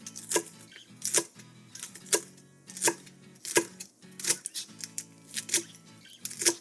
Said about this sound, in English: I'll keep chopping the lettuce until I get to 6 cups